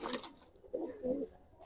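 Gribaz pigeons give soft, close coos in two or three short, low, throaty bursts with brief gaps between them.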